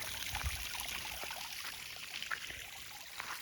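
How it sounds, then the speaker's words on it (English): Water pumped over a homemade concrete waterfall flows and trickles steadily in a continuous, fairly quiet wash, heard alone with no voices. "But as you can see, waterfall's doing well."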